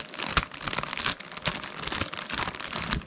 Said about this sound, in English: I'm gonna bust it out of the bag for you.